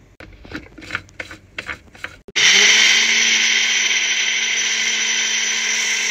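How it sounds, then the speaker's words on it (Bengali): A kitchen mixer grinder starts abruptly after a few soft handling clicks, then whirs loudly and steadily while grinding soaked rice with a little water into a coarse paste for mango phirni, close and continuous. "চালটাতে সামান্য আমি একটু জল দিয়ে দিচ্ছি গ্রাইন্ড করতে সুবিধার জন্য"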